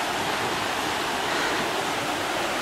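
A shallow river in a wooded valley flows with a constant broadband rush, steady and fairly close, and no voices are heard.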